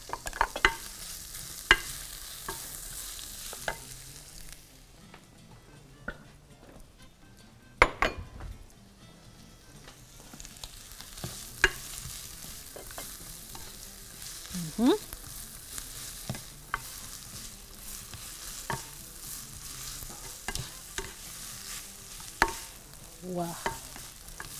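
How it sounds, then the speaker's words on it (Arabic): Onions frying in a pan toward golden, a soft constant sizzle with scattered clinks and scrapes of a spoon against the pan, quiet and close with no talking. "نحط البصل ونحمره لغاية لما لونه يبقى ذهبي"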